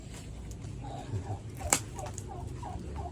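Turkeys gobbling inside their coop on a small native poultry farm, a few faint, scattered calls over a quiet background, with one sharp click near the middle.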